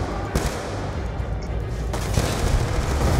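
Gunshots in the video game Call of Duty: Black Ops 2, a few sharp cracks and booms over dense, noisy battle ambience, fairly loud with no one speaking.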